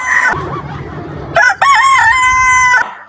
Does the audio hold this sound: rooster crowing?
yes